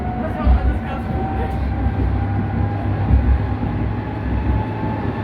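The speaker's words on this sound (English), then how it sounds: "these trams do go fast, innit?" A tram passing on a street in Leipzig, a steady low rumble of rail wheels with a faint line hum, sustained and fairly close throughout with no speech.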